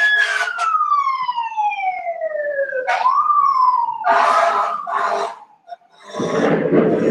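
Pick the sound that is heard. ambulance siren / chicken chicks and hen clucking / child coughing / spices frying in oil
ambulance siren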